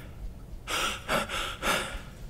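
A distressed man in a prison cell breathes hard, with three loud, ragged gasps in quick succession after a quiet start.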